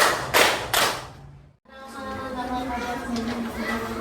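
A classroom of students claps in a counted pattern: two sharp bursts of claps near the start, a brief pause, then a broad chattering wash of young voices and movement.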